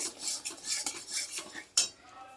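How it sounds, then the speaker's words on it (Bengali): A utensil scrapes and clinks against a pan as spice masala is stir-fried over a medium flame for paneer pasanda, with quick irregular metallic strokes close up and no talk. "মিডিয়াম ফ্লেমে দিয়ে এটা মশলাটা ভালো করে কষিয়ে নিতে হবে"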